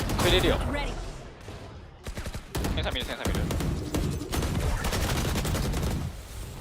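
Rapid gunfire bursts from a Valorant esports match, VCT Pacific Stage 2 between VL and DFM, including single taps and a sheriff shot, dense and loud beneath excited caster commentary.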